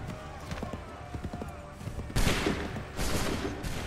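Musket volley in the video game Assassin's Creed 3, a sudden loud burst of massed gunfire crashing in after quieter battlefield clatter, followed by a second roaring wave, with voices shouting beneath.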